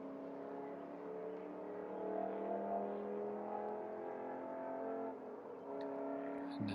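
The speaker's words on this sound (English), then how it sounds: "you can hear that distant vehicle across the farm fields on Highway 9, way out there" A faint, steady engine drone from a vehicle far off on a highway across farm fields at twilight, humming continuously with a slight rise and fall.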